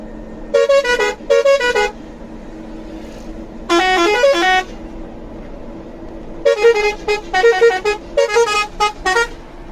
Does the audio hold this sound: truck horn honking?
yes